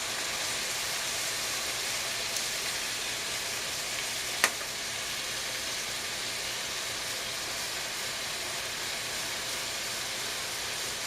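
Zucchini frying in a pan for zucchini noodles makes a soft, continuous sizzle at moderate distance, with one brief sharp click partway through and no voices.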